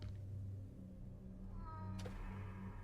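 A cat meows in the Junji Ito Maniac video game, heard as a few short, moderately clear meows over a steady low ambient drone, with no talking.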